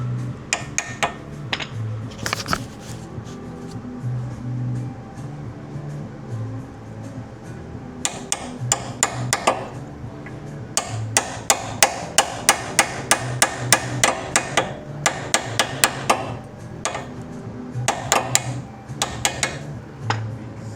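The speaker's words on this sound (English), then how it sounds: "Sometimes you got a hammer." Repeated metallic hammer strikes driving an adjustable control arm into place on a Mitsubishi 3000GT, close and sharp, coming in irregular bursts and quick runs over a low background hum.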